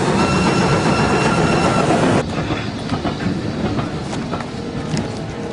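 A train rumbles along with a steady roar, dropping to a quieter clatter of wheels on the rails partway through.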